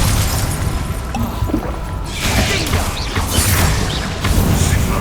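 An Incendio fire spell goes off in Hogwarts Legacy, a loud burst of flame with a whooshing crackle and rumbling impacts. It is close and forceful, with no talk over it.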